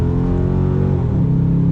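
A 2018 Dodge Charger R/T with a V8 and ZF automatic accelerates hard, its engine a loud, steady, deep rumbling drone that climbs slightly in pitch, close and continuous with no talk over it.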